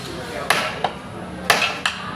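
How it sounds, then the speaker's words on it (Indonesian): A ball-peen hammer strikes a nail held upright in a TKR automotive workshop, four sharp metallic hits in two pairs over steady background noise. "Habis itu di palu atau dipukul dengan ballpen hammer."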